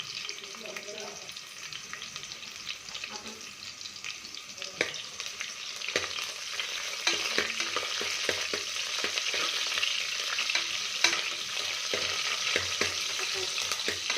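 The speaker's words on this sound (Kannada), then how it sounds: "ಈರುಳ್ಳಿ ಚೆನ್ನಾಗಿ ಎಣ್ಣೆಲಿ ಫ್ರೈ ಆಗಲಿ" Onion with curry leaves frying in oil in a pan for a home-style jackfruit and field bean sambar, a continuous crackling sizzle that swells louder midway, with occasional stirring scrapes.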